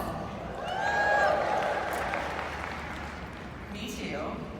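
Audience applause in a convention hall, a broad wash of clapping that swells and then slowly fades, with faint voices and a whoop over it.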